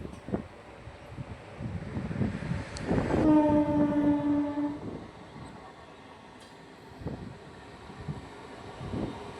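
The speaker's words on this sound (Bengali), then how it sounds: "এই যে দেখুন সামনে থেকে আসছে আরেকটি ট্রেন।" An oncoming local train on the Naihati to Majerhat line rumbles past with a steady roar of wheels and cars, and a long, loud horn blast rises partway through before the passing noise fades to a lower rumble.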